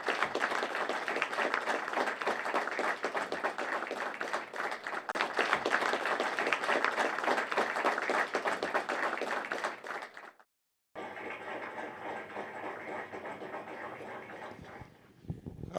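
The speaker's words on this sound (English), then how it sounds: "a round of applause from everybody here for the graduates." Sustained applause from the audience at a graduation ceremony honoring the January class, dense and even for about ten seconds, then a brief gap and a quieter, thinner stretch of clapping.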